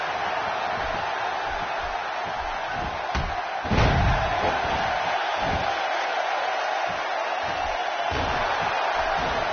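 Arena crowd roaring at a wrestling match in WWE 2K16, a steady wash of cheering noise with one heavy slam-like thud partway through, while commentary voices talk underneath.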